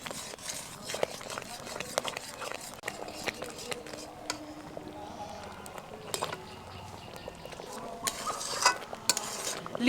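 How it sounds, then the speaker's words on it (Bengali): A spoon scrapes and stirs a thickening grape sandesh mixture in a wok, with irregular clinks and scrapes at close range and a soft sizzle under occasional talk. "এবার এটাকে অনবরত নাড়তে নাড়তে আরও একটু বেশি পরিমাণ ঘন করে নেব"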